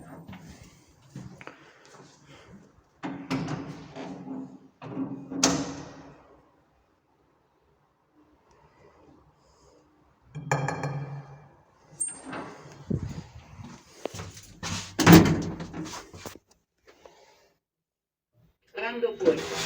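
Lift doors slide open and shut in a lift in Valencia, bursts of rumbling door motion with clunks, interleaved with a recorded Spanish voice announcing the floor and stretches of near silence.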